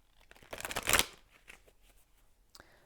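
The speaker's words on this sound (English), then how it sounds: "So let's pull some oracle cards now for Sagittarius." A deck of oracle cards being shuffled close up, a brief papery riffle of flicking cards building to a loud peak, then soft handling noises and a single card snap near the end.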